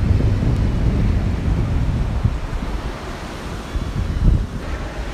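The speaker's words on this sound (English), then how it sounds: "guys, you need to visit this beach." Ocean surf rolling onto a beach at Okwaja in Lagos, Nigeria, a steady broadband wash with swelling breakers, heavy wind buffeting on the microphone and no talking.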